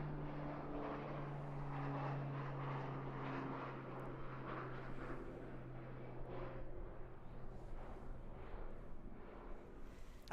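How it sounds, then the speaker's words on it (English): A Sounds Air Pilatus PC-12 turboprop drones steadily at Christchurch Airport in New Zealand, a constant propeller hum with a low tonal whine, distant and faint, with no talking. "is this that little Sounds Air PC-12 there?"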